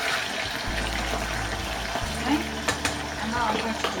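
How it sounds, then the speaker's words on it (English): Fish frying in a saucepan of hot oil, a steady close sizzle and crackle with a few brief pops, while a voice speaks over it. "This is sizzling"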